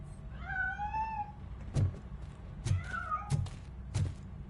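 A cat meows in the Call of Duty video game, giving two drawn-out, close meows that rise and fall. Several dull thumps are interspersed between the calls.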